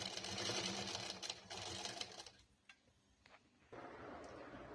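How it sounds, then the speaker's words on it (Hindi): A sewing machine stitches fabric into a belted saree, running in fast continuous bursts that pause briefly in the middle for a few soft clicks before starting again, close and fairly loud. "ये देखिए दूसरे छोरे से इस तरह से सिलाई करते हुए जाएंगे।"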